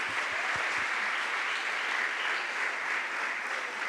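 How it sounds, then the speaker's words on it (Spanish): A church congregation applauds during a Spanish-language sermon, giving a dense, even wash of clapping that holds steady throughout at moderate loudness, with no voices over it. "Dale ese aplauso para comprometerte ahí."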